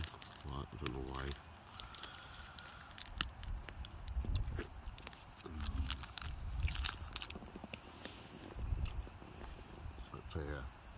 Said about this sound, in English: just as fancy a bit of chocolate. Caramac.